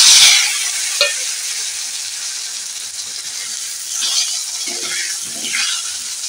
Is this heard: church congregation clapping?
no